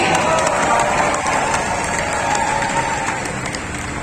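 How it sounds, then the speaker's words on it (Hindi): Audience applause and cheering at the inauguration of a world yogasana sports event in Ahmedabad, a steady dense wash of clapping from a large crowd that holds throughout and fades slightly at the end. "आइए तालियों के साथ उनका अभिवादन करें।"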